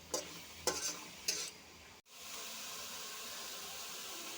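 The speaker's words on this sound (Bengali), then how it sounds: "আর সয়াবিনটাও সিদ্ধ করে নিয়েছি, এখন ভেজে নিচ্ছি। একটু হলুদ লবণ দিয়ে ভেজে নিচ্ছি।" Boiled soybean chunks fry with turmeric and salt in a pan: three sharp stirring scrapes over a soft sizzle, then a brief gap followed by a steady hissing fry.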